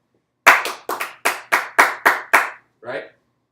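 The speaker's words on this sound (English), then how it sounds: "Right at measure 9, just clapping." Hands clap a rhythm starting at measure 9 in a music lesson, eight crisp close claps in an uneven pattern followed by a softer, muffled final clap, alone with no talking.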